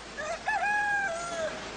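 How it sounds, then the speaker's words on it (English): A rooster crows once at a distance in a mountain setting, the call rising, holding and then trailing off over faint background noise. "Rooster."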